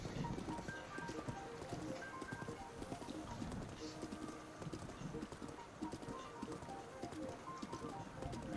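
Steady clip-clop of horse hooves at a brisk, even trot in The Legend of Zelda: Breath of the Wild, continuous and moderately loud over a faint background bed.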